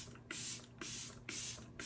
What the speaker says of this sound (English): it usually takes about 9 or 10 sprays to mist my entire face to the level that I like